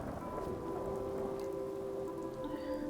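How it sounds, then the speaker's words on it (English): Steady rain patters in the video game Fallout 4, a soft continuous wash with faint thunder-like rumble beneath and a few low tonal hums running through it, no voices. "the rain makes it very cozy, but also a little bit dark."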